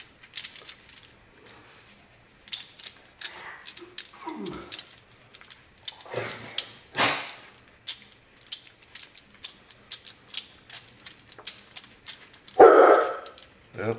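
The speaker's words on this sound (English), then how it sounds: "Keener and the shop dog started barking" A shop dog barks in a garage during a BMW E36 CV half shaft rebuild, with several sharp barks scattered through the clip, one loud burst near the end, amid metallic clinks and tool handling.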